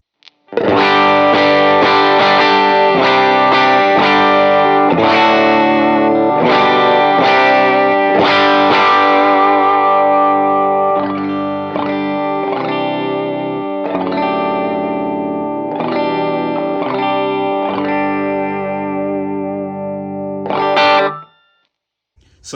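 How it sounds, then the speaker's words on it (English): Electric guitar played through a boost pedal adding grit, sustained slightly overdriven chords and notes ringing loudly for about twenty seconds before fading out. "the boost just adds just a little bit of grit and headroom, which I really, really like"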